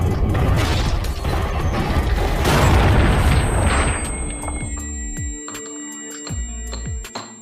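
A gun is reloaded in an action film scene, with metallic clicks and a ratcheting clack ringing out after a loud booming rumble, with sharp mechanical snaps near the end.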